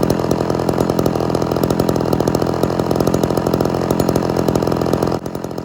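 A Homelite Super XL two-stroke chainsaw with a rebuilt Tillotson carburetor and a bad cylinder and piston runs close and loud, a rapid buzzing engine drone that holds steady for about five seconds, then drops off abruptly near the end.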